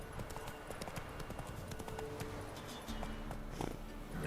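Roach the horse in The Witcher 3 clip-clops along at a steady walking pace with hooves striking in an even rhythm, moderately close beneath soft ambient game sound.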